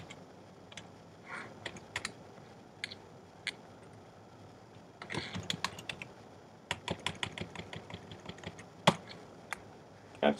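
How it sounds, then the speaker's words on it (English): Keyboard typing in irregular bursts of quick clicks, with pauses between flurries and a heavier run of keystrokes toward the end; close and fairly quiet. "So I'll start typing it in."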